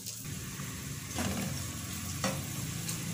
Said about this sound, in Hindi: ये कबाबों की आवाज़ आ रही है साइड से अभी तक, क्योंकि अभी तक फ्राइंग पैन में ही है।